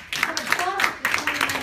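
Audience applauding a business startup course candidate, scattered claps spread across the short moment with some voices overlapping.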